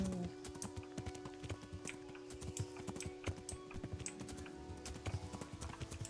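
Horse hooves clip-clop steadily at close range while riding in the medieval role-playing game Kingdom Come: Deliverance, with a constant low game hum underneath and no talk.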